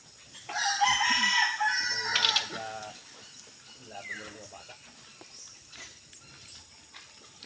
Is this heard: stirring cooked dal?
no